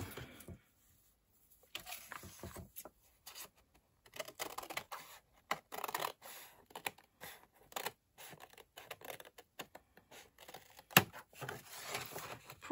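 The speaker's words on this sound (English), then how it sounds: "Gonna get the big scissors now." Big scissors snip through paper scraps in quiet, irregular bursts of short crisp cuts and rustles, close and faint, with brief pauses between.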